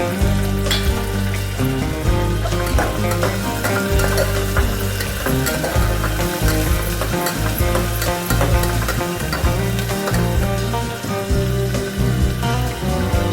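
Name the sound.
carrots and beans frying and stirred in pan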